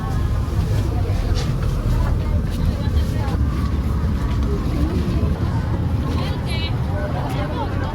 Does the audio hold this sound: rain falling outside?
no